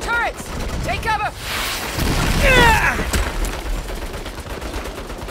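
Rapid turret gunfire in the Saints Row video game, a loud sustained fusillade with booming hits and rushing wind, while a voice shouts briefly near the start.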